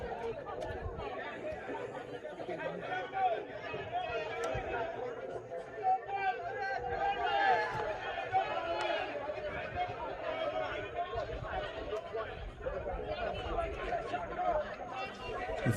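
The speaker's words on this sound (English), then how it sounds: "It's looking like a finals crowd." Steady crowd chatter and hubbub fills the stands at a women's league football final between Cayon Rockettes and Newtown, a dense babble of many voices holding at a constant level throughout.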